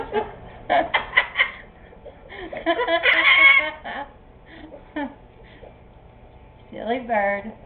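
A talking parrot imitates a hen's clucking in a string of short, raspy vocal bursts up close, with a longer squawky phrase in the middle and bits of speech-like chatter from the bird.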